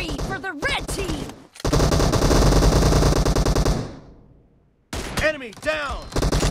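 Rapid automatic gunfire in the mobile game PUBG Mobile, a loud sustained burst of a couple of seconds that tails off, with game voice callouts before and after.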